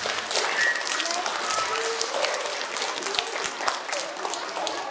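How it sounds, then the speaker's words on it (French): An audience at a Christmas festivities show applauds a boy named Tobias: a dense, steady wash of crowd clapping fills the whole stretch, with a few voices and whistle-like calls mixed in. "Eh bien, on applaudit Tobias."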